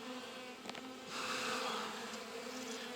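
Honeybees buzz steadily around an open hive affected by European foulbrood, a dense, close swarm drone with a slight swell in loudness midway and no voices.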